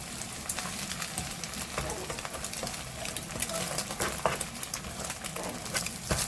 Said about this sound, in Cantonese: 咁我哋就反轉再煎另外一邊